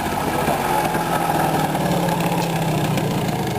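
A moped engine idles steadily at close range, a continuous buzzing drone without pause and with no voices over it.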